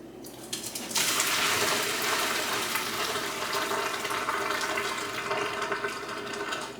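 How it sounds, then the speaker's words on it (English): A sudden rush of water drained from a pot of cooked potatoes pours out steadily and loudly, a continuous splashing gush that keeps going for several seconds. "Drain the water out."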